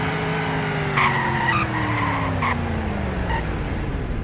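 A car in the Roblox game Greenville brakes hard, with several short tire skids and squeals cutting over a steady engine drone that slowly winds down, all at moderate loudness and without speech.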